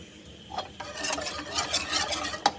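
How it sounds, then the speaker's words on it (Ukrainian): Stirring pancake batter quickly by hand just after half a litre of boiling water has gone into it, a steady close wet swishing with faint clinks of the utensil against the bowl and one sharper tap at the end. "Тепер швиденько вливаємо кип'яток пів літри і швидко-швидко все перемішуємо."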